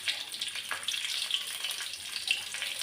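Cumin seeds, with mustard seeds, sizzle in hot oil for a brinjal rasam tempering, a soft continuous hiss with faint crackles close by and no voices.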